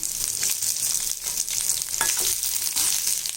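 A large chopped onion sautés in sesame oil for tomato chutney, frying with a dense, even sizzle and light stirring scrapes, close and steady, no voices.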